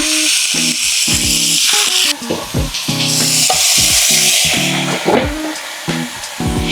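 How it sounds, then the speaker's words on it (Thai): Pork belly stir-fried in a pan, a loud, steady sizzle with repeated clattering scrapes of a utensil stirring the meat throughout, close up and with no voices. "เราก็ใส่หมูสามชั้น หรือเนื้อหมูที่เราเตรียมไว้ลงไปได้เลยค่ะ เอาไปผัดนะ"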